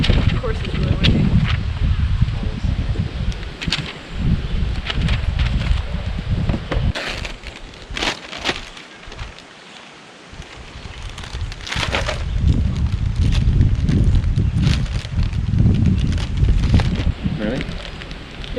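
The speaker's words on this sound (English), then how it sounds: "Of course it's really windy." Strong wind blows outdoors on a cold day, buffeting the microphone in loud, gusty rumbles that swell and ease throughout, with brief quieter lulls and scattered clicks.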